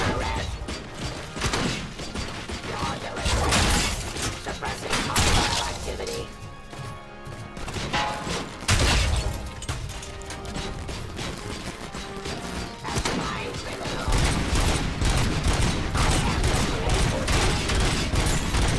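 Rapid, heavy weapon fire with explosive rounds bursts in the video game RoboCop: Rogue City, loud and nearly continuous with crashes and mechanical clatter, and a voice talking briefly beneath it.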